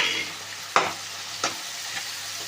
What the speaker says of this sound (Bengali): এবার ভালো করে মশলাটাকে কষিয়ে দেবো